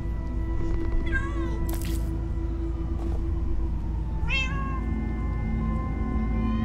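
Meows ring out in the Minecraft Story Mode video game, two distinct rising cries a few seconds apart over a steady low game hum, with a brief sharp clatter between them.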